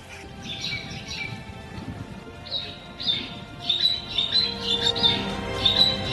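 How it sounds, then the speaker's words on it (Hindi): Small birds chirp in short, repeated bursts over a soft background hiss during snowfall in Srinagar, growing livelier toward the end; no voices. "सिर्फ एक ही आवाज यहाँ चहक रही है।"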